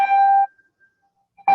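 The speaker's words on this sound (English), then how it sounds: "One moment, the bell's ringing." An electronic bell rings in a room, two short bright tones separated by a brief silence, fairly loud and close with no talk over them.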